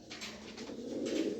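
Low throaty cooing from a male pigeon goes on close and steady, swelling a little toward the end, with no one speaking.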